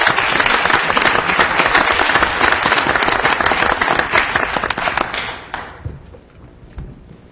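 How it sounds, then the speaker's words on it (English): Audience at a public hearing on a school budget gives a dense round of applause for young attendees, loud and sustained for about five seconds before tapering off to scattered claps and quiet. "I just want to give a round of applause to these young folks that came here tonight."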